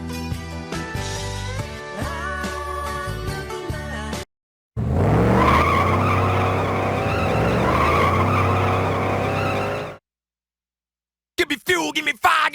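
A no-prep race car at the drag strip, loud and close, with a sustained roaring engine and tire noise in two long bursts split by abrupt silences, then a short choppy burst at the end.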